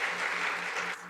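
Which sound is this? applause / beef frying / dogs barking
applause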